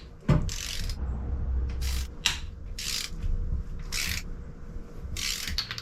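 A ratchet loosens the small cylinder head bolts on a truck engine during a cam install, with several separate bursts of quick clicking between pauses and some creaking and rubbing of metal parts.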